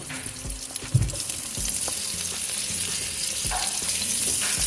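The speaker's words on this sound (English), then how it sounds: "So this is another pot. I have to add the oil." Oil hits a heated pot for Edikaikong vegetable soup with ugu and water leaves, sizzling close and steady after a single knock near the start.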